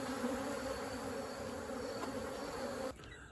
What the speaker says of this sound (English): I am going to get these bees off me